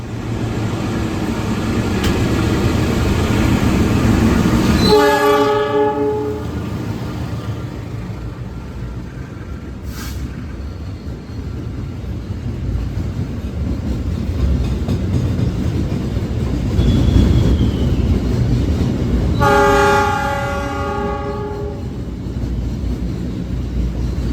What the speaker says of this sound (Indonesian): ini keretanya mau berangkat dan ada kereta yang melintas langsung